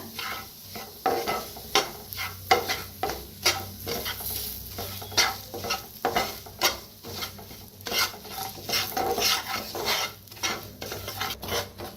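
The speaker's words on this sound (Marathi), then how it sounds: "2 चमचे बघा बेसन पीठ घेतलेलं आहे, तेलात भाजून घ्यायचं" Gram flour (besan) being roasted in oil in a pan for kachori filling, with repeated scraping and stirring strokes of a spoon against the pan over a soft continuous sizzle, close and steady.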